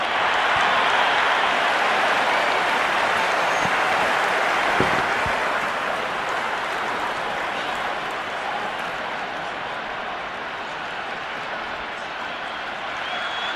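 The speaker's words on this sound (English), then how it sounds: "There's a buzz, a real buzz coming from the stands." A dense, steady roar of a stadium crowd at an India vs Pakistan T20 cricket match in the Cricket 26 game, loud and continuous, easing slightly toward the end.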